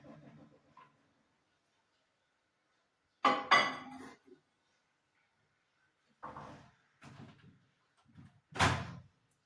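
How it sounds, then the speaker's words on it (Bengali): A fish curry dish being set into a microwave oven: a few separate clattering knocks and clinks of dish and door, with one sharp clack near the end, spaced between quiet gaps. "আমি এবার এটাকে মাইক্রোতে ঢুকিয়ে দিচ্ছি"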